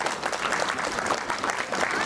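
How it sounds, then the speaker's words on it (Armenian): An audience claps steadily at a memorial opening ceremony honouring fallen Artsakh war fighters, a dense sustained wash of many hands applauding with no break. "Հատուկ ծափեր հնչեցնենք այն մարդկանց պատվին"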